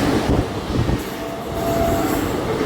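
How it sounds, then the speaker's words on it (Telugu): A special passenger train overtakes on an Indian railway line near Markapur Road, its heavy rolling rumble and clattering wheels loud and close throughout, with a brief thin wheel squeal midway. "యశ్వంతపూర్ నుంచి కతిహార్ వెళ్ళే స్పెషల్ ట్రైన్ అండి."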